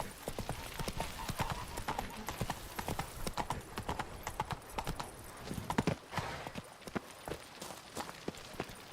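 Horse hooves galloping in The Witcher 3 make a steady, rhythmic clip-clop that runs throughout at close range, with occasional sharper hoof strikes.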